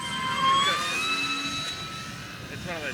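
A radio-controlled model of a German plane flies past with a whining engine, its pitch sweeping upward and then fading and wavering over a few seconds, while people talk in the background.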